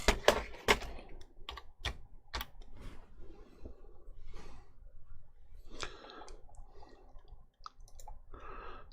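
Computer keyboard keys clack in quick bursts of typing and scattered clicks, close up, with pauses between runs and no talking.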